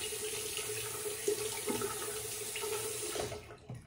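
Faucet running steadily into a sink to rinse off a safety razor, a quiet continuous splashing hiss that holds for several seconds and then cuts out.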